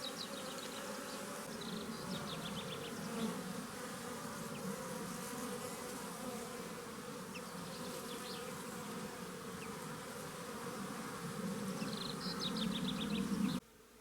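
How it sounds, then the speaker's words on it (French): Bees forage on goat willow blossoms in a steady, soft outdoor buzz of many insects, with faint bird chirps now and then and no voices. "le saule marceau est très intéressant pour les abeilles"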